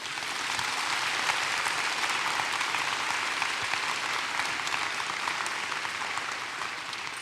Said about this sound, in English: Let us applaud them now.